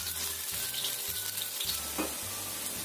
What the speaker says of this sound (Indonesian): Goreng sampai setengah kecoklatan atau kuning kecoklatan dari gitu ya